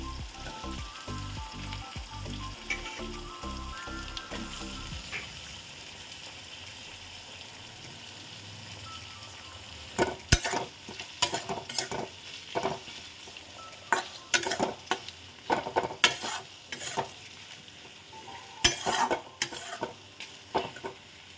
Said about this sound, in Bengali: তো পেঁয়াজটা ভাজা হয়ে গেছে